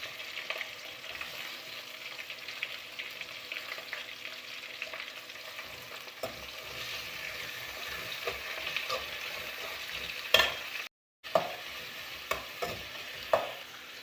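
Sliced onions frying in a pan as the base for a crab curry, a steady close sizzle broken by light stirring scrapes and a few sharper clinks near the end.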